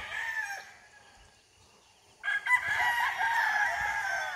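Gamefowl roosters crow at a game farm. One crow fades out, then after a short pause a louder, overlapping chorus of crowing and clucking starts up nearby.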